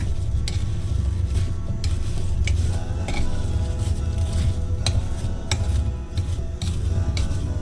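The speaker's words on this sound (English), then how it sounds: "And I've got to mix that up." A spoon stirs brown sugar, white sugar and cinnamon in a bowl, scraping and clinking against the sides in quick irregular strokes over a low steady background hum, with no voices.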